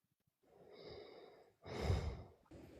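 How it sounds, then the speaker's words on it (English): A person who has dozed off mid-conversation snores faintly, with two breathy rasping inhales, the second louder and rougher, followed by a short noisy breath. "You snoring?"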